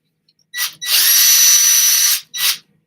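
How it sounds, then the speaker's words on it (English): Power drill whirring in a high-pitched burst, a short spin-up, then a sustained run of about a second and a half and a final brief blip, close and loud with no talk. "I'm telling you, go get yourself a drill."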